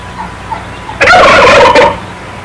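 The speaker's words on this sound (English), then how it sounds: "Baby beef turkeys, running up to 50 pounds" A baby beef turkey gobbles loudly and close by, one rattling burst of about a second, with quiet background before it.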